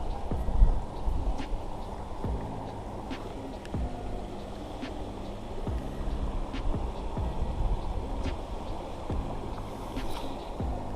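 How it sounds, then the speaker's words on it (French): Strong storm wind blows by the Tarn river during a fishing outing, giving a continuous gusty roar with faint repeated clicks and knocks over the top. "Il y a du vent, c'est la tempête."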